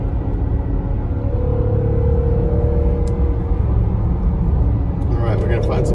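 A 2019 Jaguar F-Pace SVR pulls in third gear with a loud, steady low engine rumble and road noise. A voice briefly joins near the end.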